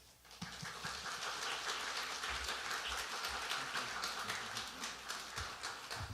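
A church congregation applauds to welcome the pastor, a faint, steady patter of many hands clapping that continues evenly throughout.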